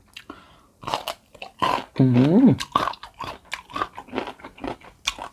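Old-style salt-pickled mango is bitten and chewed up close. A series of crisp, wet crunches runs throughout, with a brief hum of enjoyment partway through.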